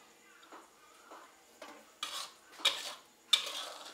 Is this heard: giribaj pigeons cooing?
no